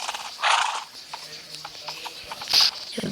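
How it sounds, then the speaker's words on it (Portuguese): Horse in a survival video game letting out two short, bright whinnies with soft hoof clops in between, fairly close and alone. "Peguei um cavalo já aqui no início da série."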